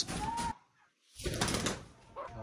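Pigeons coo in low, rounded calls with some wing movement, loud and close, in a busy outdoor setting.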